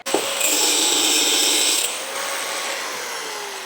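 A power tool cuts a 1.25-inch square steel tube for an electric go-kart frame, a loud high-pitched whine that holds steady for under two seconds and then drops to a softer spinning-down hum.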